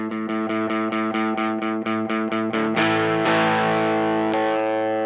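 An electric guitar repeats a chord in an even rhythm through a NuX Steel Singer pedal's sweeping filter effect, then rings out in sustained, swelling chords.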